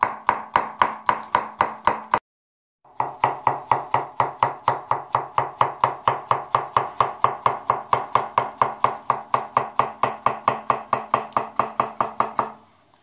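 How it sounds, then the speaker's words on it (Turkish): Rapid, steady knife chops on a cutting board as zucchini is diced in a home kitchen, dozens of even strokes with one brief pause near the start, close and alone without talk. "Kabağımızı doğradık."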